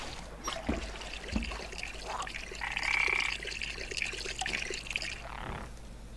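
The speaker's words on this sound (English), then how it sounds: "the potion. Pour it onto him." Potion poured onto a toad in the Wonderbook: Book of Potions game, a soft, brief liquid trickle and splash under faint background game sounds.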